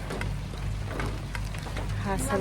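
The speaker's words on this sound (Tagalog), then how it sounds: "Yan ang ulan." Rain falls during a beach outing at Anawangin as a steady, dense hiss of drops. It is fairly loud and continuous, with faint voices mixed in.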